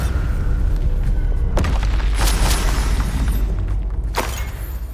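The Bombarda spell from Hogwarts Legacy sets off loud booming blasts, two or three heavy explosions over a constant deep rumble, without any talk.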